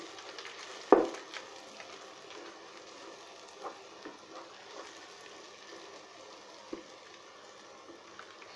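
Masala paste sizzling in oil in a pan for jackfruit seed curry, stirred with a spoon. A steady, soft frying hiss runs throughout, broken by occasional light scrapes and taps of the utensil. No one speaks.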